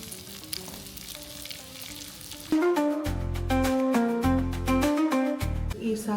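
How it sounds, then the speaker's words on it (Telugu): Cashews frying in ghee until golden brown make a soft, steady sizzle for the first couple of seconds before loud music with strong tones takes over and buries it. "నేను నెయ్యి వేసుకున్నాను ఫ్రెండ్స్, కొంచెం వేసుకొని కొంచెం ఫ్రై చేస్తా"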